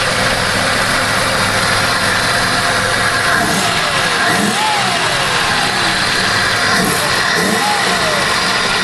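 A Buick LeSabre engine with lifters out of adjustment idles in a steady, loud drone, broken by a few faint rising whines.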